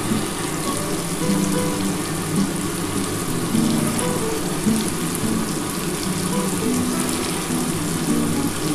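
A large onion goes into a pan for potato and drumstick curry, giving a steady broad hiss of frying that holds evenly and fairly close throughout, with no voices over it.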